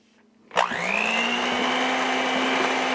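An electric hand beater clicks on and revs up on low, then settles into a steady, loud whirring hum as it mixes cream cheese and powdered sugar, close and continuous.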